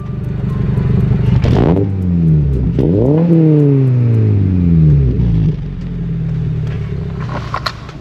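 A tuned Toyota GR86 sports car engine drives and revs up through the gears, rising and falling pitch with loud, close rumbling, a couple of upshifts in quick succession, then settling into a steady cruise.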